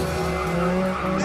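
Tires of a Ferrari F430 Scuderia squeal in a sustained, loud skid, with tonal screeching held steadily over the engine's roar for the whole moment.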